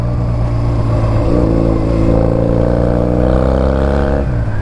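A Honda Rebel 250 motorcycle ridden off-road drones loudly and steadily close by, its engine pitch climbing as it revs up, then easing back near the end.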